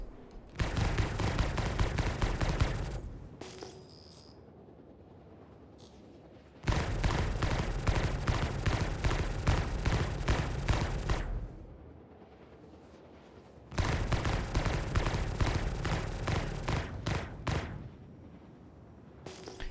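Dense rapid-fire automatic gunfire in the space game Star Citizen comes in three long sustained bursts of about three to five seconds each, loud and close, separated by quieter gaps with faint background sounds.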